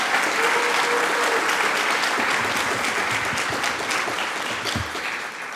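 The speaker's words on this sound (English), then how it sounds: "So big round of applause." A room of members applauds at the UK Python Association annual general meeting, a full, sustained wash of clapping that stays loud throughout and eases slightly near the end, with no voices over it.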